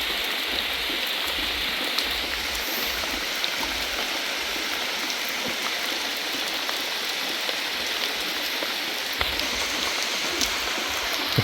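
Steady rain of the first downpour of the year falls alone in a continuous, even hiss of droplets with occasional louder drips, close and dense throughout.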